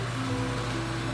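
Outdoor jacuzzi hot tub running at a beachfront lodge in Homer, Alaska, giving off a steady broadband whoosh of bubbling, churning water with a low hum underneath, continuous and fairly close, with no talking.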